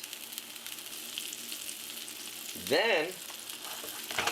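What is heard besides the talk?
Salisbury steak patties frying in a pan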